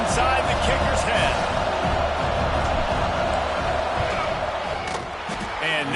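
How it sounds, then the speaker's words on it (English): A stadium crowd roars steadily during a football field goal attempt, a loud, continuous wash of cheering and noise that stays dense throughout with voices mixed in. "This crowd trying to do its part to get inside the kicker's head."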